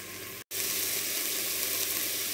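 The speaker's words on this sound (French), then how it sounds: "on laisse bien dorer et on remue de temps en temps." Veal pieces browning in a Cookeo multicooker, a steady loud sizzle broken by one brief silent gap near the start, then continuing evenly.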